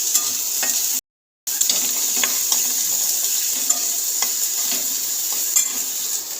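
Peanuts frying with salt in a pan for peanut chutney, a steady close sizzle with scattered scraping stir clicks, briefly cut off near the start before resuming.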